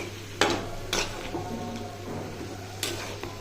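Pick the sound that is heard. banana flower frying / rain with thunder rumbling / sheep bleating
banana flower frying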